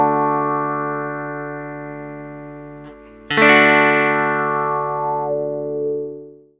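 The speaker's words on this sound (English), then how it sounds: "By moving the rocker backwards and forwards, you get the classic wah-wah sound that the pedal's named after" A guitar run through a wah pedal as the rocker sweeps back and forth, a sustained chord with shifting tone, then a fresh loud attack near the middle ringing out and fading, no talking.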